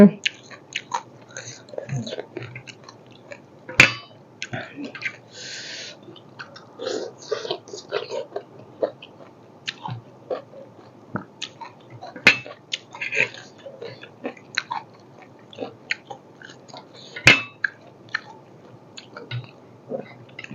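Up close, someone chews homemade curry with wet, smacking bites, with occasional soft speech and clicks between mouthfuls.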